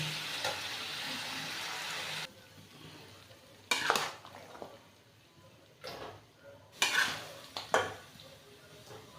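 Cooked mutton is scraped and spooned from a pan into a pressure cooker, with a soft sizzle early on, then several scraping clatters of a spoon against metal, fairly close and intermittent.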